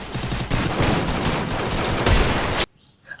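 Free Fire video game gunfire, rapid continuous bursts of loud automatic shots that cut off sharply near the end, leaving quiet game ambience.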